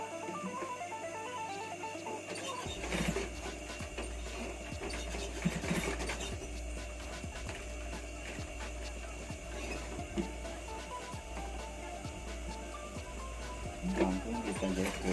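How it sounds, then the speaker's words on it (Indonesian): A close sewing machine runs steadily, stitching down a hidden button placket on a Shanghai-collar knit shirt. It starts a few seconds in with a rapid mechanical whir and rhythmic ticking, with occasional brief slowdowns and no talk. "Lalu kita jahit untuk penguncian ya, kita jahit di bawah supaya nanti tidak bergeser."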